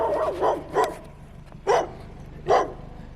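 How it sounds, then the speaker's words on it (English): Dogs bark at someone collecting scrap metal from curbside trash: four or five distinct barks at irregular intervals, moderately close, over a low background hum, with no talking. "Dogs are mad."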